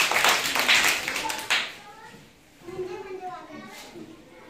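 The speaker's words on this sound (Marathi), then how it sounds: "छान. टाळ्या." Children clap their hands during a classroom sound-guessing game: a quick burst of claps fills the first two seconds, then fades, and voices follow.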